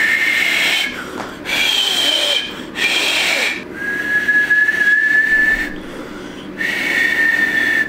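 Finger whistling practice, with a series of loud, sustained high-pitched whistles separated by short breathy gaps, one long steady note in the middle and another to close.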